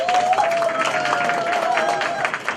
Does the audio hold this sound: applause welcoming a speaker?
yes